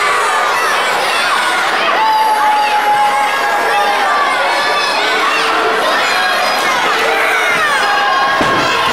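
A loud, close crowd at a heavyweight wrestling cage match cheers and shouts without a break, with high voices and whoops rising and falling over a constant roar. A commentator can be heard under the crowd noise.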